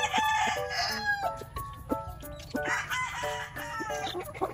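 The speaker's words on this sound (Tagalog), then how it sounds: "Inahing manok." A hen clucks on a farm in summertime, with a quick series of clucks and a crow-like call, close and clear over a low steady background hum.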